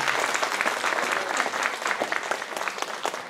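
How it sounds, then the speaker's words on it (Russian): Church congregation applauding during a sermon, dense continuous clapping from many hands, fairly loud and close, holding steady for a few seconds. "Аплодисменты Иисусу Христу, Спасителю нашему."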